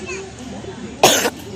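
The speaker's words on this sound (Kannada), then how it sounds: "ಈಗೊಂಚೂರು ಕೆಮ್ಮು ಬಂತು" A single sharp, close cough bursts out briefly after a stretch of quiet background murmur, from a person who has just finished walking and exercising.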